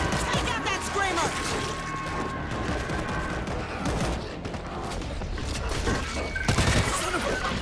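Rapid, sustained gunfire rattles through a zombie-shooter game as automatic weapons fire in dense bursts with booming impacts. Character voices shout over the shooting.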